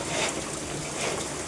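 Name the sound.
rain with hail falling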